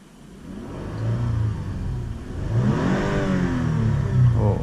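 A car engine revs up and accelerates as the vehicle pulls away, a steady mid-range whir climbing in pitch, loud and close with no talking over it.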